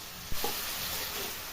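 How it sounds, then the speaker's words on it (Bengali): Onion fries lightly in a pan with a steady close sizzle, broken by a sharp knock or stir of the spoon early on. "এবার আমি পেঁয়াজটা একটু হালকা ভেজে নেব।"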